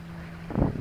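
A sailboat moving under sail in a light breeze on the Gulf of Saint-Tropez, with steady low wind and water noise and a brief swell of rushing water near the end.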